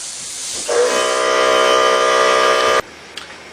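Small air compressor for an airbrush running steadily with a constant hum and hiss, then cutting off abruptly near the end, leaving quiet room tone.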